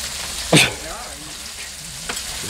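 Bacon frying on a Blackstone griddle, with a steady close sizzle throughout and a brief louder crackle or scrape near the start, no talk.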